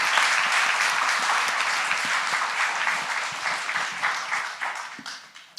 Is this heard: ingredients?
no